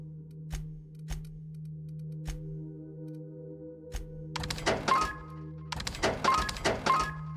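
Energy cell effect from the game The Outer Worlds: a run of dull thunks and clicks over a steady low hum, then a dense burst of metallic whirring, ringing tones and clattering that swells twice near the end.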